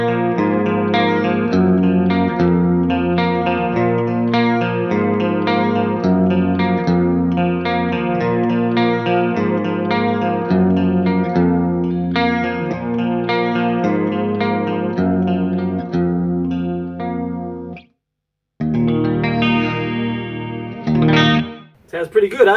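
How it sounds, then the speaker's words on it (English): Electric guitar played through a Marshall JVM410H tube amplifier with chorus and echo effects, ringing chords and arpeggiated notes sustaining loudly up close, a brief dropout near the end before a few final strums. "So let's do a quick demo of the Marshall JVM410h"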